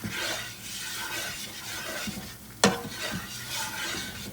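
A butter and flour roux for jambalaya cooks over medium to high heat while a spoon stirs it with soft scraping strokes over a gentle sizzle, and one sharp clack rings out midway.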